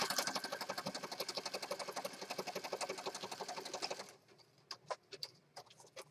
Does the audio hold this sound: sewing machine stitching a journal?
yes